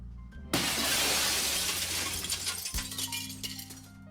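Glass shatters in the video game The Sexy Brutale, a loud sudden crash followed by a long spray of tinkling shards that slowly tails off under a low droning game tone.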